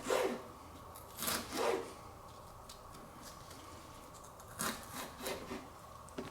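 Knife finely chopping a cored, seeded jalapeño on a cutting board, heard as a few soft scraping strokes in two short bursts separated by a quieter stretch, close and fairly faint, with no talking.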